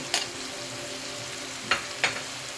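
Carrots stir-fried in a pan for pancit canton give a steady close sizzle, broken by three brief scraping stir strokes.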